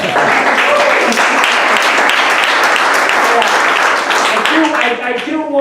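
A live comedy audience breaks into loud, sustained applause mixed with crowd voices, filling the room for several seconds before tapering off at the end.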